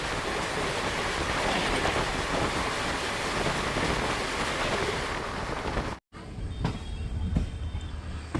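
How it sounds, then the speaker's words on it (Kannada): Inside the Siddhaganga Superfast Express, running from Dharwad to KSR Bengaluru as it enters Hosadurga Road station, loud steady rumble and rush of the moving carriage cut off abruptly, followed by quieter clanks and rattles. "ನಮ್ಮ ಟ್ರೈನ್ ಈಗ ಹೊಸದುರ್ಗ ರೋಡ್ ರೈಲ್ವೆ ಸ್ಟೇಷನ್ಗೆ ಎಂಟ್ರಿ ಆಗ್ತಿದೆ, ಪ್ಲಾಟ್ಫಾರ್ಮ್ ನಂಬರ್ 1ಕ್ಕೆ"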